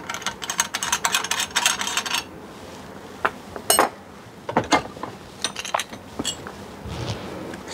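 A metal clamp is tightened onto a handmade steel cage nut with sharp metallic clinks and ratcheting clicks. A dense burst comes first, then scattered separate knocks and taps, all close by.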